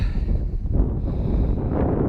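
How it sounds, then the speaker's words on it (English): Steady wind buffets the microphone with a low, continuous rumble and roar, loud and close throughout. "A little windy, guys. A little bit of wind now."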